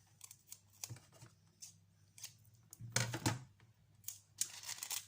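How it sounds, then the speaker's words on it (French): Sticky tape rips off a roll in a few short, raspy bursts, with quiet rustling and handling in between. "Je vais juste mettre un petit bout de scotch."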